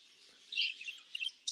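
Parakeets chirp in an aviary with soft, high, twittering calls, rising to a brief louder flurry and then another near the end. No voices accompany them.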